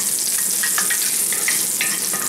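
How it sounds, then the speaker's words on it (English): Ginger pieces frying in smoking-hot oil in a pan, a dense steady sizzle with crackling pops and brief stirring scrapes, close and loud with no voices. "my ginger, my oil's smoking, and my ginger's frying, actually"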